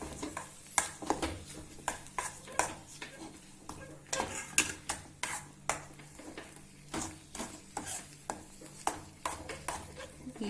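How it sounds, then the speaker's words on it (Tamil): A spoon stirs sugar into bread halwa in a pan, giving a run of irregular scraping strokes and soft clinks of utensil against metal over a faint low sizzle, close and moderately quiet, with no talking. "ஈவனா மிக்ஸ் பண்ணிட்டே இருக்கலாம்"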